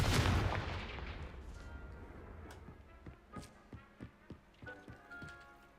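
A Confringo fire spell from the Hogwarts Legacy video game bursts with a heavy explosive blast at the start, then fades into a series of softer rhythmic thuds and taps, all fairly quiet with no talking.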